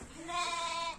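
A lamb bleats once in a drawn-out, wavering cry, close and clear, with no voices around it.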